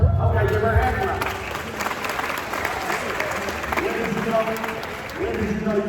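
Audience applause and hand clapping from a crowd at a school motivational tour event, steady and fairly loud across the whole stretch, with some voices mixed in.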